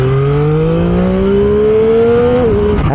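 A Triumph Street Triple 765 RS motorcycle engine revs loud and close, its pitch climbing steadily before it drops back sharply near the end.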